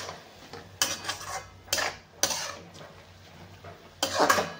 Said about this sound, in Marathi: मिठाला पण चांगलं आपल्याला हलवून घ्यायचं आहे